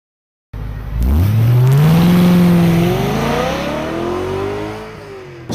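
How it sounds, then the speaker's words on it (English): A BMW M3 E92 V8 engine roars and revs hard on a track, its pitch climbing steeply then holding high and loud before easing slightly, close and continuous with no talking. "the V8 motor sounds absolutely phenomenal"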